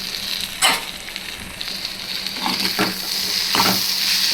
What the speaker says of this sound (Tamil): இதே மாதிரி ஸ்லோ ஃப்ளேம்லேயே வச்சு நம்ம பரட்டி விடணும்.